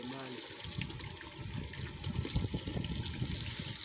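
Water gushes and splashes steadily from a pump at a mosque, a continuous rushing flow that grows slightly heavier partway through.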